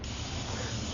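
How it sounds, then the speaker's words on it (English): Spray gun hissing steadily as it lays a light, even coat of paint during automotive gold leafing work, a brief constant soft spray close by with no talk. "Let's go ahead and just spray a light coat"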